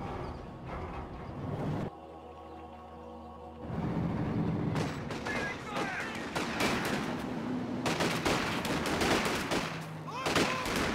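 An MG bunker's machine gun fires in Company of Heroes 2, rattling out rapid bursts amid dense battlefield gunfire with a short lull partway through.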